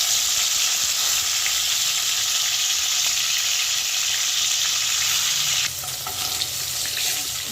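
Fish heads fry in hot mustard oil with a loud, dense, continuous sizzle that drops abruptly in intensity near the end, then settles into a quieter spatter.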